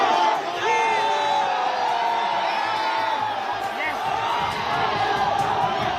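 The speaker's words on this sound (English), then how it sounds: "Can we up the audio from this crowd?" A large outdoor crowd cheers the India cricket team on a victory parade, with whoops, yells and overlapping shouts forming a continuous roar, with scattered voices rising above it.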